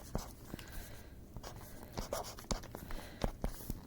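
Marker or chalk writing on a board in a classroom demo, heard as a series of short, sharp scratchy strokes at close range with small pauses between letters, no talking over it.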